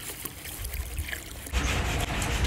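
Water pouring from a pipe, a soft hissing trickle that swells into a louder, fuller gush partway through, close and steady with no talk.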